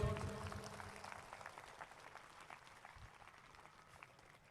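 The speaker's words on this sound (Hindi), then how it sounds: "आज जोर से ताली बजाएंगे" Applause from a church congregation at a New Chandigarh prophetic ministry service, loudest at the start and then fading to lighter, scattered clapping.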